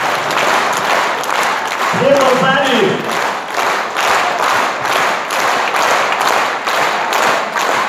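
Audience applause at an anniversary concert, honoring soldiers in the hall: loud, sustained clapping from a large crowd, with a voice speaking briefly over it.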